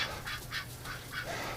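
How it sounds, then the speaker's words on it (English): Ducks outdoors in winter, a close series of about five raspy nasal quacks in quick uneven succession over a low background rumble. "Alright, ducks."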